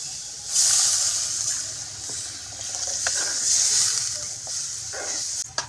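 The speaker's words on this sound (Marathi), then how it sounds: "आता आपण याच्यात पाणी ओतू" Water poured into a hot pan of kurma with vegetables brings up a loud steamy hiss and sizzle that rises, then settles, with light scrapes and clinks of a spoon nearby.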